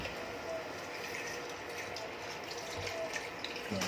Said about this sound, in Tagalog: Nag-reduce na siya, ay atin ang lagyan ng tubig.